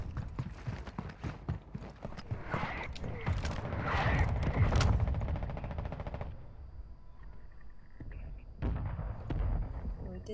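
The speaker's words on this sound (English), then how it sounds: "mortar strike inbound" Mortar strike explosions in the shooter game Warzone, a run of heavy booms and blasts rolling through the middle of the clip amid scattered gunfire, with game announcer voices over the action.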